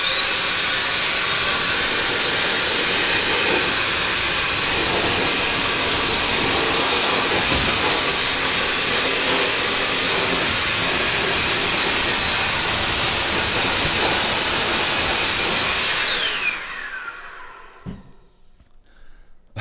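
A DataVac electric duster roars with a loud, steady, jet-like hiss while blowing dust out of a computer, running continuously for about sixteen seconds before spinning down and trailing off.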